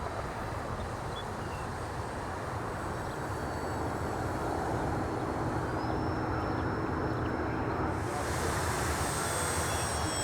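A Tower Hobbies P-51B radio-controlled model airplane cruises past, a steady loud engine drone with a rising whine as it goes by, partly masked by broad wind-like rushing noise.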